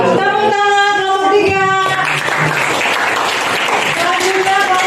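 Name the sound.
applause for the presenting group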